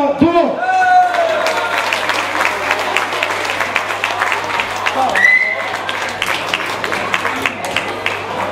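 A crowd at a women's elite cycling race ceremony in Erpe-Mere applauds the winner, a sustained, dense wash of clapping with an announcer's voice over the public address at moments.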